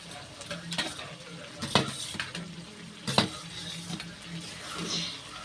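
Chicken masala sautés in oil in a pan with a low continuous sizzle, broken by a few distinct scraping stirs and knocks of a spoon against the pan.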